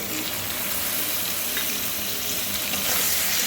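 A small tomato frying in hot oil with turmeric while cooking tangra fish: a steady, close, loud sizzle with faint stirring scrapes throughout, no talk.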